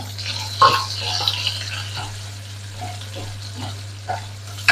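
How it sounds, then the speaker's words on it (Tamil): Onions go into hot oil with curry leaves and green chilies for a spinach and dal milk curry, producing a soft, wet frying hiss with a few stirring bumps over a constant low electrical hum. "இப்போ நான் வெங்காயத்தை சேர்த்துக்கொள்கிறேன்"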